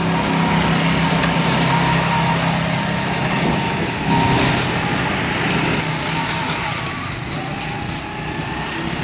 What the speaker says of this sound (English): Kids are riding the go-karts for the very first time.